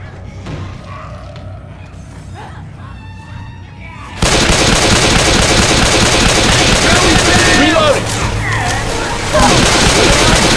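Sustained gunfire in Left 4 Dead 2, a dense continuous wash of shots after a quieter opening, loud and close, with brief voices in the mix.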